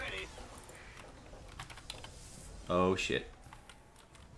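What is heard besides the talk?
typing on a computer keyboard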